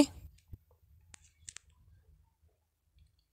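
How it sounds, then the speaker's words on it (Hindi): A mouse click on the Apply Now button of a Kotak Mahindra Bank job application page sounds as a few short, sharp clicks spread over a few seconds, alone over a quiet background. "इस जॉब को अप्लाई करने के लिए अप्लाई नाव वाले बटन पर क्लिक करेंगे"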